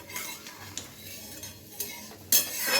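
A spatula scrapes and stirs food in an oiled iron wok, with close repeated metallic scraping strokes and a faint sizzle beneath, ending in a louder burst of frying.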